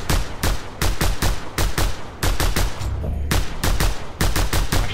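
Loud, rapid gunfire in Just Cause 2. Evenly spaced shots ring out in a steady rhythm, with a brief pause near the middle, up close and with no one talking.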